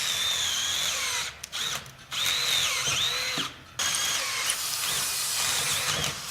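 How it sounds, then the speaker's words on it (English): A power drill bores a hole through car lift shackles for a 1967 Ford Mustang, whining at close range in long runs broken by a few brief pauses. "and I just drilled a hole in them"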